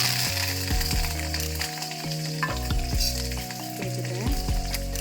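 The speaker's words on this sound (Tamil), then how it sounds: "கடுகு பொரிஞ்சிருச்சு." Mustard seeds splutter and crackle in hot oil for a Tamil dhal curry, a continuous close sizzle with sharp pops, and steady pitched tones running underneath.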